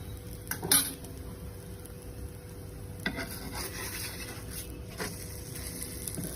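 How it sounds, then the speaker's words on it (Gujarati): Paneer-potato paratha flipped on an oiled pan, with a few clinks and scrapes of a spatula against metal over a light steady sizzle, close and fairly quiet. "હવે આપણે પરોઠાને પલટી દઈશું"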